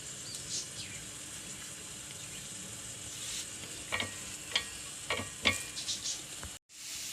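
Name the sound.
coconut frying in oil for sambar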